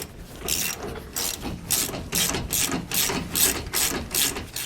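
A ratchet wrench tightens bolts while a rear anti-sway bar is installed on a 2015 Tiffin Allegro motorhome, with about a dozen steady, evenly spaced bursts of rapid clicking, close and clear with no talking.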